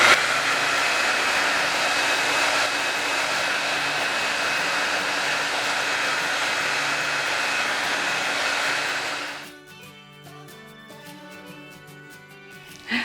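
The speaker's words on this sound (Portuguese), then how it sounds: "você já vem com o secador e vai secando" A hair dryer dries glued newspaper layers on a papier-mâché vase, blowing a loud, steady whoosh for about nine seconds before it cuts off, leaving a quieter background.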